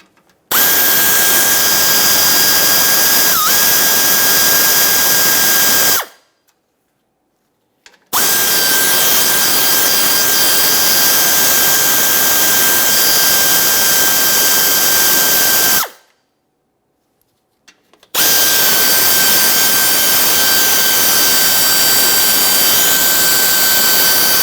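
Loud high-pitched whine of a power tool driving out 7mm headed mounting bolts on a 2017-2024 GMC Acadia bumper, three long sustained bursts separated by short silences.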